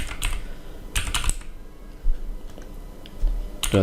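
Someone types a domain name on a computer keyboard, close, crisp keystrokes in quick clusters with short pauses between bursts.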